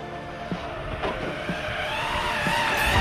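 Arrma Kraton and Arrma Outcast 8S radio-controlled cars in a drag race, giving a steady high electric whine that builds in loudness across a few seconds, with sharp tire scuffs and skids breaking through, no voices.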